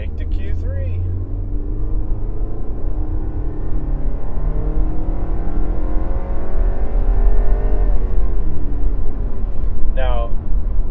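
A 2015 Audi Q3 quattro with the 2.0 TFSI engine accelerates steadily, its engine note rising slowly and loud from inside the cabin, under continuous talking from the driver.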